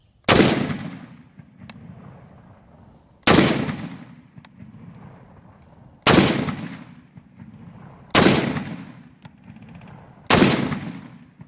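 An M1 Garand rifle is fired outdoors in five loud, separate shots spaced roughly two to three seconds apart, each a sharp crack followed by a fading echo, with no talking.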